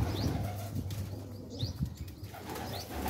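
Pigeons flap their wings in short bursts, with soft cooing and faint chirps nearby against a low background hum.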